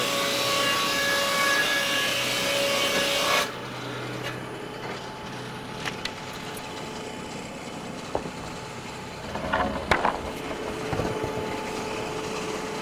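A board edger cutting lumber, a loud steady saw-and-feed roar for about three seconds that cuts off abruptly, then quiet scattered knocks and clatter of boards.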